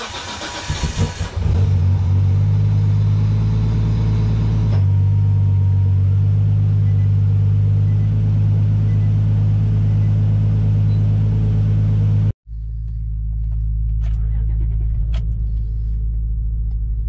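Nissan Skyline R33 engine cranking and catching, then settling into a loud, steady idle rumble for about ten seconds before cutting abruptly, followed by a quieter, lower running drone.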